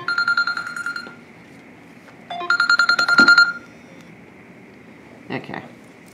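Loud electronic ringtone of a phone with an incoming call: two warbling ring bursts with a pause between, then a brief final chirp, close by and with no talk over it.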